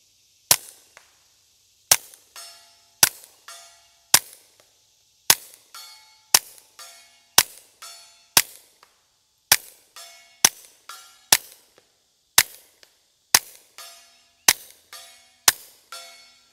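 A Kel-Tec P17 .22LR pistol fired with subsonic ammunition at a 100-yard target, about sixteen sharp, dry cracks spaced roughly a second apart. Each crack is close and fairly loud with a short decaying tail, and no one talks.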